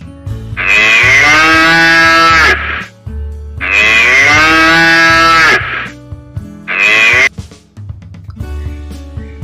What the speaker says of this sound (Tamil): பசு,